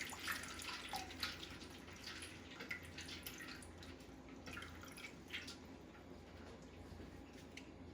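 Water drips and trickles steadily from a colander of blanched broccolini lifted out of a pot of water, a close, continuous patter of drops with small splashes, no voices.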